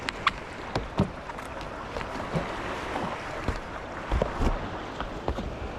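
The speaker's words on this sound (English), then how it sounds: "Let me paddle offshore a little bit, so I'm getting pushed into some rocks." Kayak paddling on Lake Erie near shoreline rocks, with steady splashes and drips from the paddle strokes over a soft wash of water and wind, close and moderately quiet.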